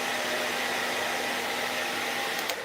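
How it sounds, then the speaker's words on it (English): A hair dryer runs on its high setting, giving a loud, steady whoosh of blowing air that holds constant throughout with no talking. "I keep my hair dryer on high."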